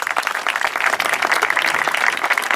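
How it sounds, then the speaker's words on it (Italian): Audience applause at the Nassirya International Peace Prize award ceremony: a dense, steady wash of many hands clapping at once, loud and close, continuing without break for the whole stretch. "facciamo un applauso"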